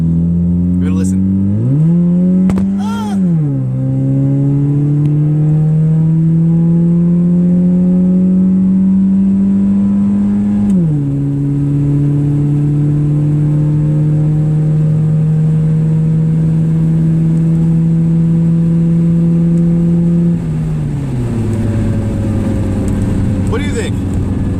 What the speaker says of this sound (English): I feel like this thing kind of sounds like an RX-7, like a rotary engine a little bit, in the upper RPM range.